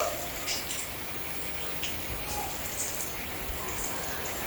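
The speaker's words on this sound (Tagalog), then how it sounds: "Tapos umuulan din." Steady light rain falls outdoors through thick fog, a soft continuous hiss with no distinct drops standing out.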